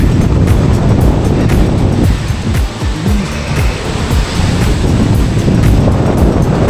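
Strong wind roars across an exposed Dutch coast, a loud, unbroken rumble and buffeting that batters the microphone throughout, with no voices.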